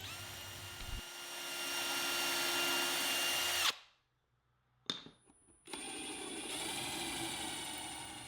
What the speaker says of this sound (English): The small block of wood will help keep the drill bit straight while drilling the hole.